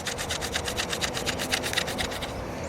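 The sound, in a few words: drill bit cutting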